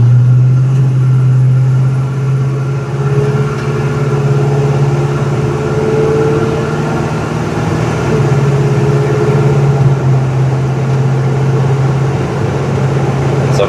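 A 1970 Chevrolet C/K 10 pickup truck drives along with a steady low engine drone heard from inside the cab, holding an even tone with only slight rises and dips.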